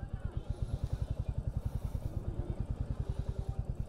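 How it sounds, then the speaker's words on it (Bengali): A motorcycle engine close by at Mandarmoni beach, idling in a steady rapid thumping pulse as it is brought to a stop and parked. "চলো এখানেই বাইকটা পার্কিং করছি সাইড করে"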